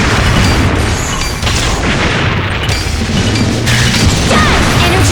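Heavy, continuous rumbling booms of enemy missile explosions in the Liberation Maiden video game, dense and loud throughout with crashing impacts layered over a low roar and no clear breaks.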